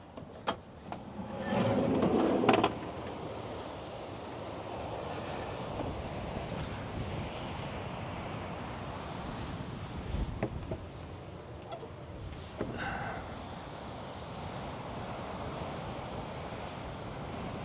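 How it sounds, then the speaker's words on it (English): Steady coastal wind roars and buffets the microphone near a lighthouse by the sea, a constant broad rush with occasional louder gusts and no talking. "Very windy, but beautiful."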